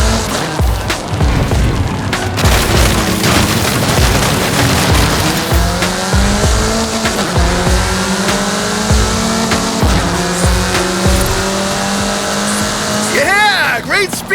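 A race car in a racing video game accelerates hard, its engine roaring and shifting pitch while the tires squeal through corners, loud and close, with a voice talking over it.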